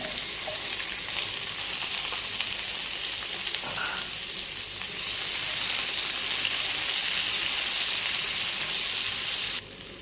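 Whole spices and small shallots sizzle and fry in hot oil for a Tamil-style chicken gravy, a steady close crackling hiss that holds throughout and drops off sharply at the very end.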